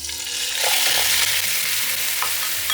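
Bone-in beef hits hot oil with cumin and curry leaves for a Kerala tapioca and beef biryani, raising a loud, dense sizzle that hisses continuously with faint stirring scrapes underneath.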